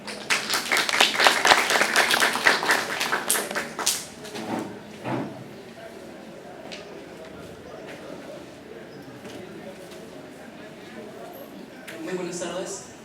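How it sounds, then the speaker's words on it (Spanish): Audience applause at a linguistics lecture, loud and dense for about four seconds, then thinning into scattered claps and fading to a quiet room before a few more soft sounds near the end. "Aplausos, por favor."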